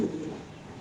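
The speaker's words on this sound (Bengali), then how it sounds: "রেড শেডের একটা নর কবুতর ভাই" A brief, soft, low coo comes from a red-shade male pigeon at a pigeon farm, heard once, close by and alone.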